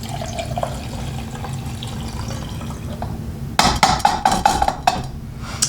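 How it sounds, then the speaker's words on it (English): Solvent pours back into an oil painting brush washer with splashing, gurgling bursts and clinks against the container, following a quiet stretch of low background hum. "And we'll just pour our solvent right back in."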